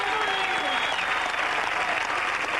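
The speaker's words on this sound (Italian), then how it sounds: "vorrei sentire questo applauso però se ti è piaciuto." Audience applause at a stage show, a continuous wash of many hands clapping at full volume with scattered voices underneath, brief and steady throughout.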